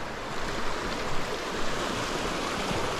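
A swift, rain-swollen river in flood rushes past in a steady, loud roar of churning water that fills the whole scene without letup, with no voices heard.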